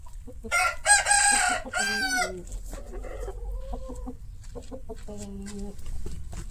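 A rooster crows loudly nearby, then chickens cluck softly in short bursts.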